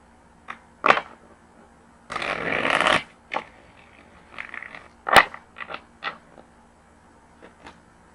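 Tarot cards being shuffled by hand in several separate bursts, a long riffling flurry in the middle and shorter crisp flicks and taps around it, close and fairly quiet.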